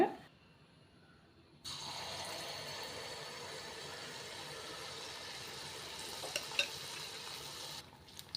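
Rava paniyaram frying in hot oil as an evening snack, a steady close sizzle and bubbling that starts abruptly after a quiet moment and runs on evenly with small pops, no talking.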